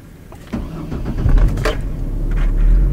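A $500 used car with a freshly repaired fuel pump and exhaust cranks and catches, then settles into a steady, close engine idle with a low rumble that holds to the end.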